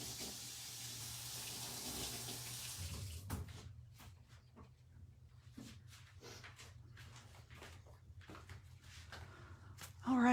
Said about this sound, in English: I am gonna rinse this brush out really quick